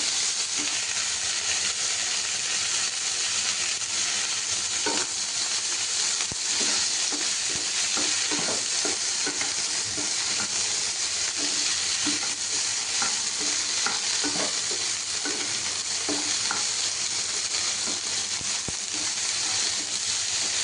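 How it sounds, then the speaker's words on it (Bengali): Food frying and being stirred in a pan of hot oil makes a steady crackling sizzle that runs throughout, with small pops and scraping stirs, close and unbroken, with no talk over it. "দেখো বন্ধুর একটু চরবর চরবর একটা শব্দ হচ্ছে না"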